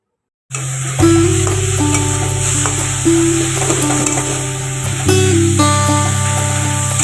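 Pomfret fish and sliced onions fry in a pan with a loud, steady sizzle that starts suddenly and continues, while stirring adds scraping clatter and a faint tonal hum runs underneath.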